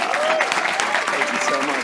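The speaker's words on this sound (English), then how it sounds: "So with that, another round of applause for Fernando Rosario." An audience at a 2022 EEP graduation ceremony applauds steadily, a dense even clatter of many clapping hands with a voice faintly audible underneath.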